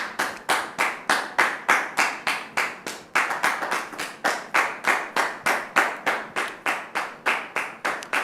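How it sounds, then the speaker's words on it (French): A TV studio audience claps steadily to welcome a guest sister onto a French-language talk show, with evenly spaced, crisp hand claps repeating in a regular rhythm throughout, fairly close and without talk. "Merci de recevoir notre sœur sous vos applaudissements"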